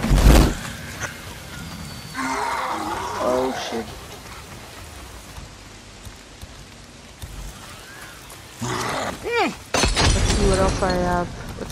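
Molotov cocktail bottle shattering in the video game Days Gone, a loud crash of breaking glass with a crackling burst, set among gunfire and game noise.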